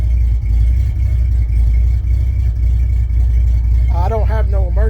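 A 1966 Chevy C10 pickup body on a 1972 truck frame idles loudly and steadily up close, its low engine rumble continuous throughout, with a voice speaking briefly near the end.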